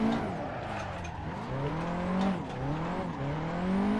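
Nissan S13 drifting on the ADC Lake Touge circuit with a handbrake entry, its engine note rising and falling in sweeping pitch swings over a steady tyre roar, loud and close with no talk.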